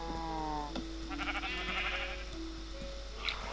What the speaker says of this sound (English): so here we have the sheeps